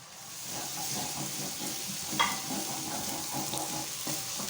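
Onions frying with garlic and ginger paste for a fish curry, a steady close sizzle and hiss with faint stirring scrapes and one sharp tap.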